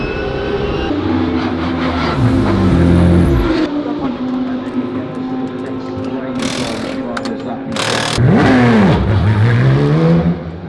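Porsche 992 race car in the pit lane at an endurance race, loud engine drone rising and falling with revs and passing cars sweeping by, constant heavy mechanical noise with speech mixed in.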